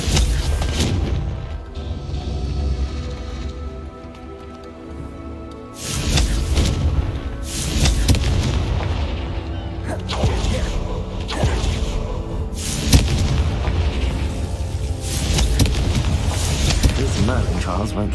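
Confringo spell blasts go off in the video game Hogwarts Legacy, a few loud booming explosions with rumbling tails over game music, with a voice calling out between them.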